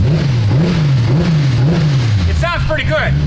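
A worn 200,000-mile Toyota Supra engine runs nearby, its pitch rising and falling in slow revving swells, with someone briefly talking near the end.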